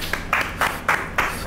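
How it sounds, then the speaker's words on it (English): A few people in a podcast studio clap in a slow, even rhythm, about five distinct handclaps close to the microphone. "Let's get some round of applause for Black Excellence."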